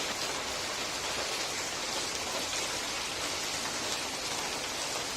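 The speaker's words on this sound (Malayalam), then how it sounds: "അപ്പം എല്ലാവരും മഴയൊക്കെ കണ്ട് എൻജോയ് ചെയ്യും" Steady, dense rainfall pattering on surfaces nearby, an even wash of hiss without breaks or voices.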